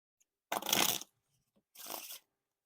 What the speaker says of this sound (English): The riffle shuffles and bridge shuffles feel a little bit clumpy at the start